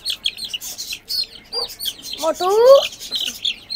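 Young chicks chirp in short bright tweets, one rising call standing out, from a cage nearby while someone talks and calls to them over the top.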